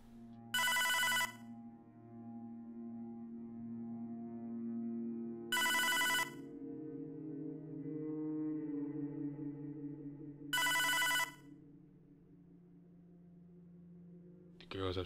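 A telephone rings three times in Hotline Miami 2 on PS4, bright electronic trills spaced about five seconds apart over low humming game music, fairly loud and clear.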